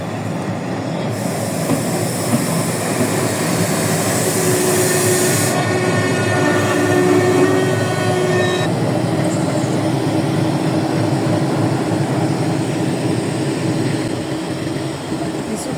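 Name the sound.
train departing Talma station for Dhaka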